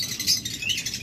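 Pet lovebirds chirp steadily in high, overlapping tweets, close and fairly loud, forming a continuous bright chatter with no one talking.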